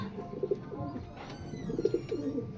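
Soft pigeon coos repeat over a steady murmur of background noise, with faint chirps scattered throughout.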